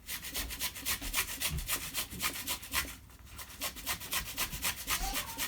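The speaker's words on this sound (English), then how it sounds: "I'm gonna grate the ginger as well." Fresh ginger is rubbed against a grater in quick, regular rasping strokes, about two or three per second, close and fairly quiet with a short pause midway.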